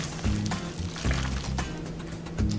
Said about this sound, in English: You have to put water